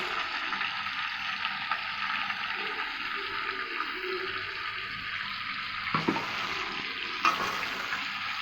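Ground spice paste fries lightly in a pan with a continuous hissing sizzle, broken by a couple of brief utensil knocks toward the end.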